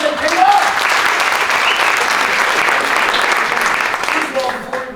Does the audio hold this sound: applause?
yes